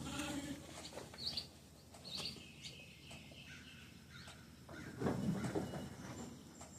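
A large ewe in a winter sheep barn bleats in a low, wavering call near the end, amid a flock's shuffling, scattered bird chirps and general pen noise.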